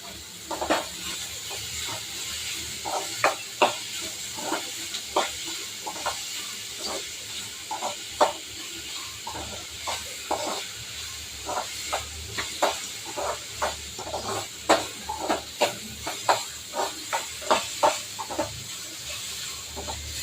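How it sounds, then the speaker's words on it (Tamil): Cumin seeds sautéing in a pan for Tamil-style fish curry, a steady broadband hiss with frequent small pops and crackles scattered throughout, close and continuous with no talking. "அப்புறம் கொஞ்சம் ஜீரகம் எல்லாம் போட்டுக்கிட்டோமா நல்லா வதக்கலாம்"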